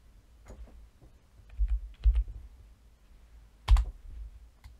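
A password is typed on a computer keyboard in a handful of sparse, close keystroke clicks, clustered in small bursts against a quiet background.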